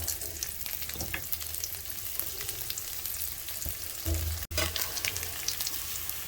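Mung dal, dried red chilies and garlic fry in oil in a pan, making a steady close sizzle broken by stirring scrapes and a short clunk partway through.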